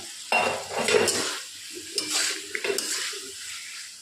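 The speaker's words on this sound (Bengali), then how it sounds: "এবার একটু কষিয়ে নিচ্ছি" Spice paste is sautéed in a pan for a fish-head and pointed gourd curry, with spatula scrapes and clinks against the pan over a low sizzle, close and intermittent, no speech.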